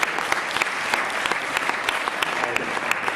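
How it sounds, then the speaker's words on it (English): An audience gives a short round of applause, a moderate patter of individual claps with sharper hand hits standing out, continuous and fairly close. "How about a round of applause for Tiga?"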